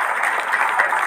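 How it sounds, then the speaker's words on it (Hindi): Loud, dense applause from a seminar audience gathered in Gandhi Park, Gonda, a steady unbroken wash of clapping that holds at the same level throughout. "आप सब लोगों के सम्मान में एक बार जोरदार तालियां"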